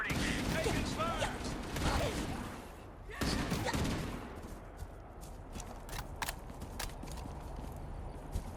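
Gunfire in the Halo Campaign Evolved game, rapid clattering shots and impacts scattered through a dense battle din, with voices talking over parts of it.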